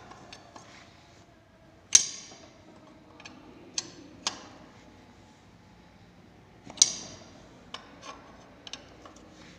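A ratchet tightening 8 mm bolts on a motorcycle engine being reassembled: sparse, close metallic clicks and a few sharper clinks of tool on metal, quiet between strokes, with no speech.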